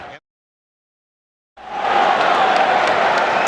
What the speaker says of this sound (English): the usual sellout crowd on hand